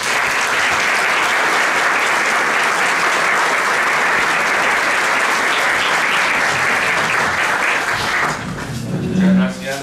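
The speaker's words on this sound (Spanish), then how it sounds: "Lo recibimos entonces con un fuerte aplauso." An audience at a church social doctrine pastoral conference gives a loud, sustained round of applause to welcome a speaker, thinning out near the end as a voice begins.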